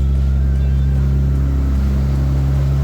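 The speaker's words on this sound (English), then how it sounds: "this car is loud with the door shut" A car engine runs loud and steady with the door shut, a deep, heavy droning rumble heard from close by inside, constant throughout with no speech.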